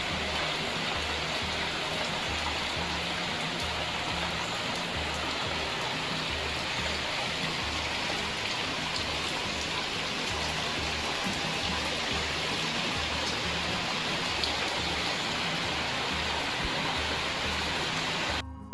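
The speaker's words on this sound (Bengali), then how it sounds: "দেখলে বাইরে বৃষ্টি হচ্ছে" Steady rain falls outside as an even, continuous hiss at moderate volume, unbroken throughout, with no voices.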